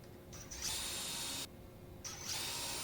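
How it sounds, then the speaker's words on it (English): A power drill drilling pocket holes whirs in two bursts, spinning up high and steady, with a short lull between them; close by and fairly quiet overall. "here I'm drilling the pocket holes"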